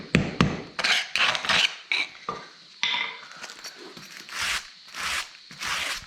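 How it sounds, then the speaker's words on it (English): Brittle epoxy is scraped and chipped out of concrete control joints in a series of close, sharp scratching and clinking strokes, irregular and moderately loud with brief gaps. "I can get it out like so."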